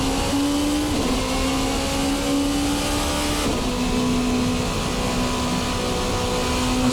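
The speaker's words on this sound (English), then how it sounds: "Second gear, come off of the brake, squeeze in the throttle" VRC Revenga R13 race car at Road America in Assetto Corsa, engine held at a steady high drone in second gear under throttle, with a brief pitch dip midway before pulling on again, loud and close with no talk.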